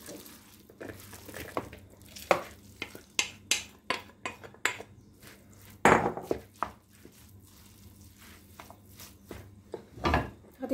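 Rice is mixed in a bowl, producing a series of irregular close knocks and scrapes of a utensil against the bowl with quiet gaps between strokes.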